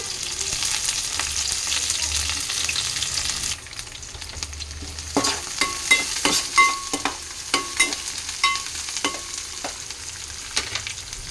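Chicken frying in a pan with curry leaves makes a loud, continuous sizzle, then a run of sharp clattering scrapes as the pieces are stirred, up close with no voices.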